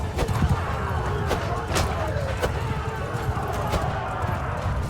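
Horse hooves clip-clop in steady, close thuds during a Mount & Blade II: Bannerlord battle, with someone talking over the hoofbeats and a busy field noise behind.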